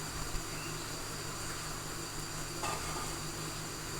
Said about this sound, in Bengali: একদিকে মাছ ভাজা মানে মাছের মাথা ভাজা হচ্ছে